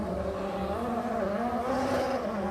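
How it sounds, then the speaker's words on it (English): Formula 1 car at the Canadian Grand Prix revving its engine with a slipping clutch, a steady droning, wavering engine note held at a distance for the whole stretch, with no talk over it. "He's revving the engine, but it's not moving forward"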